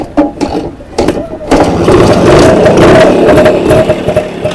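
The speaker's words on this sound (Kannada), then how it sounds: "ಗಾಡಿ ಸೌಂಡು ತಲೆ ಕೆಡಿಸ್ತಿದೆ ಗುರು" A Rajdoot GTS 175 motorcycle engine runs steadily and loudly close by after a few brief opening bursts, holding a continuous drone under background voices.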